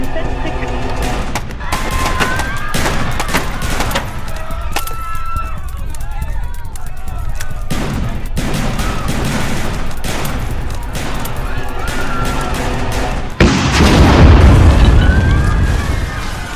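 Several gunshots ring out in a street, sharp loud cracks scattered across the stretch with voices in between, followed by a heavier burst of noise near the end.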